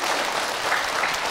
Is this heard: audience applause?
yes